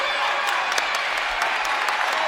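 Crowd at a men's college basketball game between Taylor and Huntington claps and cheers in a steady, dense wash of applause, with scattered sharp claps popping out near the listener.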